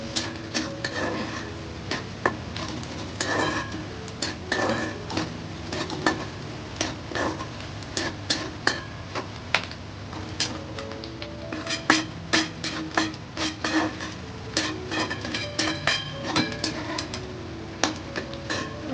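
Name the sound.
onion frying and being stirred in a hot kadhai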